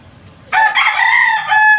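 A fighting rooster crows close by, one loud, strained call of nearly a second and a half that rises sharply and holds, over faint background noise.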